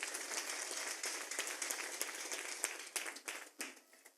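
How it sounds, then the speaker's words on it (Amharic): A church congregation claps for the Lord in quiet, sustained applause with uneven peaks that fade toward the end. "አጨብጭቡ ለጌታ።"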